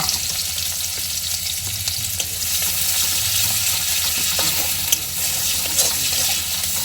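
Onions and green chilies fry in oil in a pan aboard a boat, a steady close-up sizzle and crackle running without a break from start to finish.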